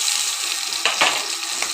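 Chopped onions dropped into hot oil with chilli and curry leaves, a steady close sizzle with brief louder bursts as they hit the pan.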